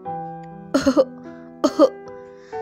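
Two short bursts of close, harsh coughing, each a quick double or triple hack, separated by a brief pause over a quiet background.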